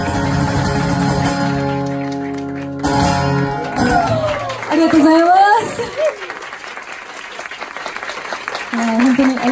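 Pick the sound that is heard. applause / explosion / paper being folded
applause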